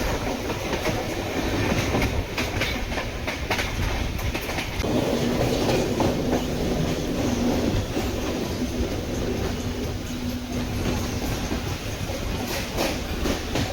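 A MEMU passenger train running between Tiruvannamalai and Tambaram, its wheels rumbling and clattering over the rails in a continuous loud roar, with rhythmic clicks and a faint squealing tone partway through.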